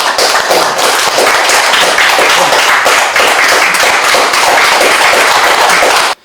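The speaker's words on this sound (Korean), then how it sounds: "큰 박수로 환영해 주시기 바랍니다" Sustained, dense applause from a seminar audience at a Korean National Assembly press club event, welcoming a speaker; steady loud clapping for about six seconds, then stopping abruptly, with no talk over it.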